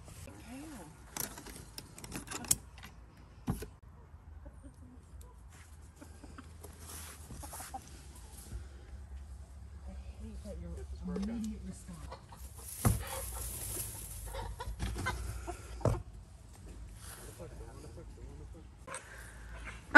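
Backyard hens cluck softly in a coop, a few short calls scattered over a low farmyard background with occasional knocks and rustles.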